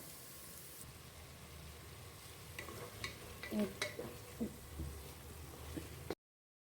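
Tomato and garlic paste goes into onions frying for kabsa, giving a steady low sizzle with a run of stirring scrapes and soft pan knocks toward the end, close and moderately quiet, with no talk.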